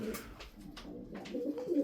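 Sütbeyaz pigeons give low, throaty coos up close, a steady rolling murmur with a few soft flutters and shuffles.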